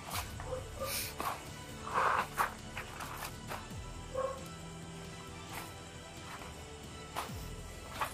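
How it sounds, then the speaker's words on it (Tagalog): A dog barks and yips a few times at moderate distance amid background noise, with short whimpering sounds between the barks. "May tumatahol talaga mga tol."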